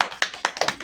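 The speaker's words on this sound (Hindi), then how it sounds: "एक बार ताली बजा दो।" An audience at a Hindi wedding gathering gives a short burst of hand clapping, several sharp claps scattered over under a second, fairly near with no talk over them.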